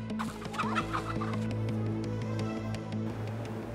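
Chickens cluck steadily and close by throughout, in repeated short calls over a low continuous background hum, with no talking.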